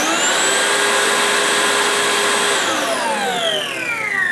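Dewalt cordless battery-powered leaf blower running steadily at full speed: a loud, constant whooshing roar with a high whine, close to the listener, easing slightly near the end.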